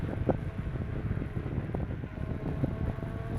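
Strong wind buffets the microphone while riding a Kukirin electric scooter, with a constant low rumble and gusty thumps, loud and close throughout.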